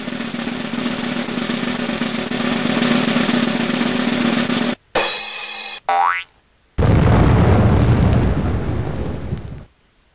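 A comedic circus-style cannon launch of a snail: a loud sustained roar, then a springy boing with a rising whistle, followed by a big broadband blast that fades out.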